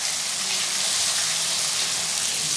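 Chicken and tomato fry with garlic in a pan for karela gosht, a steady loud hissing sizzle that fills the whole moment, close up and continuous without speech.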